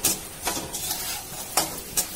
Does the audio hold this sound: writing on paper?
no